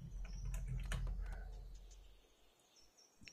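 Keys clatter on a computer keyboard during a Colony Survival gaming session, a quick burst of clustered taps that thins out into a few scattered clicks against a faint background.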